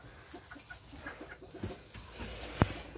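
Hen clucking in a backyard poultry flock, soft scattered clucks close by over a low background rumble, then a sharp loud knock or thump near the end.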